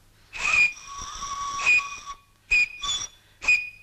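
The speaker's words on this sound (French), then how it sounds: "Tiens, un sifflet de quartier maître." A shrill boatswain's pipe blows in several bursts: two long held tones, then three short sharp blasts, loud and close with no talking.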